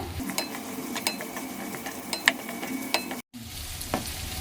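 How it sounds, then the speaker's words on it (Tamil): Onions sautéing in a little oil in a pan over a full gas flame, a steady close sizzle broken by frequent scraping stirs and brief clicks of the utensil. "இது எல்லாமே வந்து நம்ம கொஞ்சம் எண்ணெயிலே வதக்கி எடுத்துக்கிறோம்"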